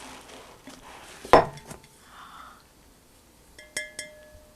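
Glass herb keeper being taken out of its box: one sharp clink near the middle, then a softer knock and a later pair of bright ringing glass taps, close and clear with no talking.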